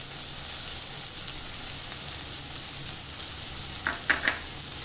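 Squid masala with turmeric and chili powder frying in a pan, a steady close sizzle that ends with a few sharp scraping stirs of the spoon.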